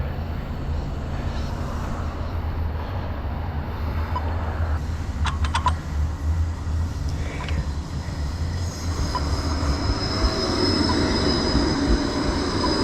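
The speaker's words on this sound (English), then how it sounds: "There's a tramway" A tram on the Gold Coast tramway rolls past in a steady broadband rumble, with brief metallic ticks and squeal-like tones partway through and the rush building louder toward the end, heard from close by outdoors.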